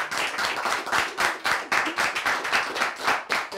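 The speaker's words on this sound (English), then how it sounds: "I thought you were going to clap for her." A studio audience claps in rhythmic bursts, the hands landing in a fairly regular, pulsing beat that swells and dips about twice per second, close and lively with no speech on top.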